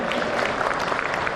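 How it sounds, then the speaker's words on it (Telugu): Audience applause at a Lions International District 320A cabinet installation ceremony: a brief, moderate patter of many hands clapping, steady throughout. "చప్పట్లు చాలా చప్పగా ఉన్నాయండి."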